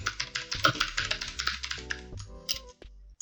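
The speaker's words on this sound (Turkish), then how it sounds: "Ctrl T'ye basıp bir kere tıklıyorum ekrana ve herhangi bir şey yazıyorum" Someone types on a computer keyboard, with a rapid, irregular run of close key clicks that slows and thins out toward the end.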